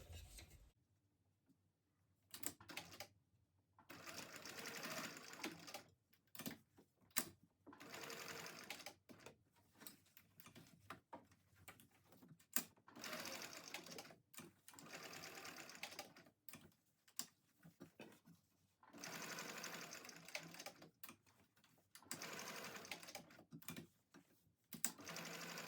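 A sewing machine stitches a box-and-X pattern on a tote bag strap in short bursts of rapid, even needle clatter separated by brief pauses, close and clear with no talk.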